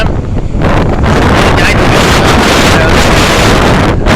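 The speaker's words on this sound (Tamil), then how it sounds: "இப்போவே வந்து காற்று பார்த்திங்கன்னா ரொம்ப மோசமாக இருக்குது" Strong cyclone wind roars steadily on the coast near Nagapattinam as a cyclone approaches, a loud, continuous buffeting rush across the microphone with no pauses or voices.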